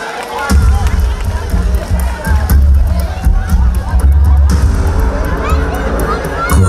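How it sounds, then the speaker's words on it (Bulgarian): Crowd at an outdoor town celebration in Sandanski cheers and roars for a singer, a loud, dense mass of voices and noise with heavy low rumble, continuous throughout. "Вие знаете името. Аплодисменти!"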